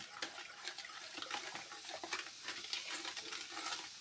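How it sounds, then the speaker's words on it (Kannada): A spoon stirs sugar into a chilled fruit salad in a bowl, giving soft, wet, continuous swishing and scraping close by with no voices. "ಈಗ ಸಕ್ಕರೆ ಹಾಕಿ ಮಿಕ್ಸ್ ಮಾಡೋಣ."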